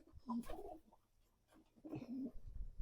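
Pigeons kept in coops give soft, close throaty coos in two short phrases separated by a brief quiet gap.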